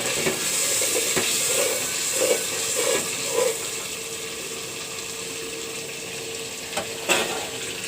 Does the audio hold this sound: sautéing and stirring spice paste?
yes